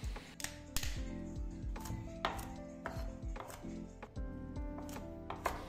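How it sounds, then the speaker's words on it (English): A knife chops through coconut on a board in a series of sharp, close, irregular thwacks and taps, each hit ringing briefly as pieces are cut for a Jamaican duckanoo recipe, with no talk. "I'm just going to chop up this coconut so my blender has an easier time."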